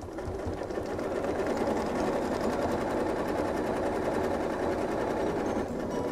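A sewing machine stitches straight quilting lines along a ruler, a steady close rapid whirring hum that runs unbroken for about six seconds with no talking.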